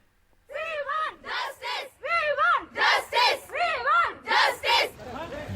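Protesters gathered outside a college in Belagavi chant loudly in unison, with repeated rhythmic shouted phrases rising and falling in regular bursts from a nearby crowd.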